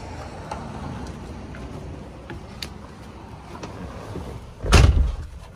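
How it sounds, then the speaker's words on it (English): The door of a 2007 Ford F-250 Lariat 4WD diesel pickup is worked with the key: faint rattles and clicks, then one loud, close latch clunk near the end. "And the key works the door as well."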